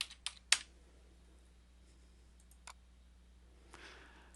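Sparse computer keyboard typing: a quick burst of three keystrokes at the start, then an isolated click and a softer final tap, all faint against a low steady hum in a quiet office.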